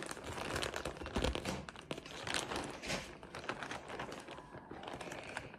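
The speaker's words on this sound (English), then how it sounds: "So there's going to be some plastic bag rumbling." Crinkly plastic mail bag rustling and crumpling close up, irregular bursts of handling noise with no speech.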